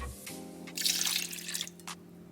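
Water is poured into a blender jar over soaked oats for oat milk, a short splashing trickle lasting under a second, close and fairly quiet, then a few drips.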